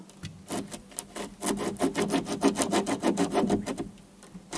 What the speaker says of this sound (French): je vais prendre la scie à main, tout simplement, par l'intérieur, découper